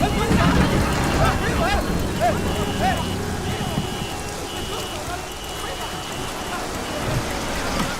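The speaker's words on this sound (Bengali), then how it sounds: "এই রাজা, বৃষ্টিতে কেন ভিজছো?" Steady rain patters throughout, with a voice speaking over it and a faint electronic tone drifting in the background.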